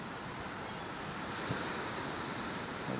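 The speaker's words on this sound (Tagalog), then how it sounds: "Nagtataas ng alon." Rising ocean waves near a harbor pier after storm damage, a steady, loud, broadband roar of surf mixed with wind buffeting the microphone, continuous throughout with no voices.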